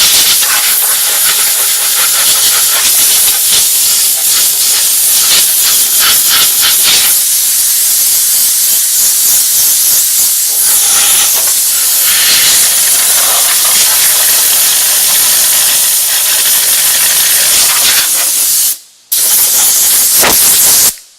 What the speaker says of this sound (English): So I'm going to come in here and blow this stuff out.